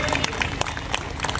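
Audience applause welcoming speakers at a backward-classes awareness conference in Dhanbad, a dense, steady patter of many hands clapping with scattered louder claps throughout, fairly close.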